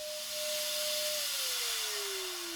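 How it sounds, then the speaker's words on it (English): A vacuum cleaner running off a camper van's battery inverter whines steadily throughout, its pitch gliding slowly downward in the second half as if the machine is winding down. "The vacuum was still running when I came in here"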